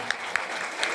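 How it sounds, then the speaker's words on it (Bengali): Applause at a school event honouring a teacher's portrait, a steady dense clapping wash with a few sharper individual claps standing out, loud and continuous with no voices over it. "জোরে হাততালি হবে।"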